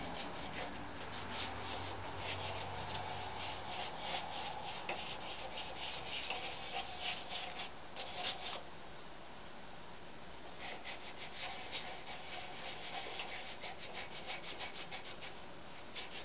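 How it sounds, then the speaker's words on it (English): Steady rhythmic scratching of sandpaper rubbed back and forth by hand over a turned wooden Christmas ornament, close and continuous, with no voices. "You go back and, of course, sand with the grain."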